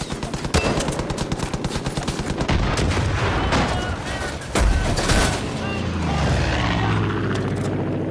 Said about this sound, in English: I'm gonna strafe these sinners!